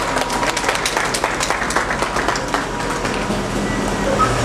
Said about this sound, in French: vos acclamations, s'il vous plaît.